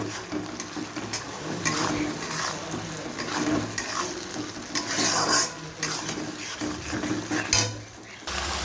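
Spice paste with salt and turmeric sizzles in a pan while a spatula scrapes and clatters against the metal in irregular strokes.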